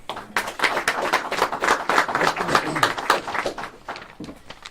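An audience at a meeting of state leaders on Providence schools applauds steadily, many hands clapping in a dense, sustained burst that tapers off slightly at the end.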